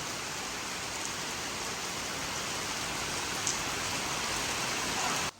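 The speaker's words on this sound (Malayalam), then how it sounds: "നല്ല അടിപൊളി മഴ കേട്ടോ, തകർപ്പ മഴയാണ്" Heavy evening rain pours down steadily, a dense, even hiss of drops on surfaces that stays loud and unbroken throughout, with no voices over it.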